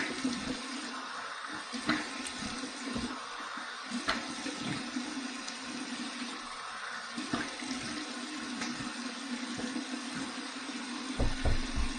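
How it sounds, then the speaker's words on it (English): Cold water runs steadily from a tap for a post-shave rinse, a continuous close rushing hiss lasting the whole stretch with slight splashing variations. "Here's my cold water rinse."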